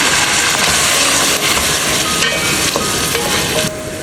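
Two medium chopped onions fry in hot oil with a loud, steady sizzle and hiss, close up, with faint stirring scrapes underneath.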